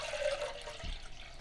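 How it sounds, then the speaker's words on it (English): Water is poured into a Jetboil camping stove pot, a brief close trickle and splash of liquid. "Let's just chuck some water in the old Jetboil."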